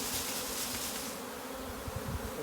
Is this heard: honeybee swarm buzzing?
yes